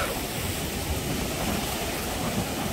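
Surf at the edge of Gwangalli Beach in rising weather, with strong wind roaring steadily over the crashing waves, a dense, constant wash of noise and no voices.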